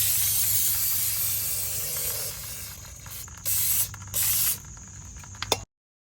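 Brake and parts cleaner aerosol sprays in a long continuous hiss during rear drum brake shoe work on a Nissan Sentra, then comes in two shorter bursts, close and loud with no talking.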